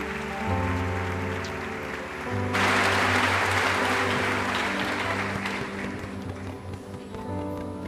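A church congregation at a Baptist service breaks into loud applause that swells over sustained organ or keyboard chords, the clapping filling the room for several seconds before easing as the music carries on.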